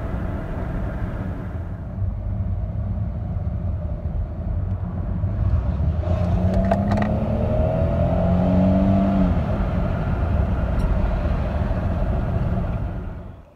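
A 2005-2007 Chevy Malibu that is overheating accelerates hard on the road, its engine note climbing steadily in pitch and loudness over a constant road rumble, with no talking.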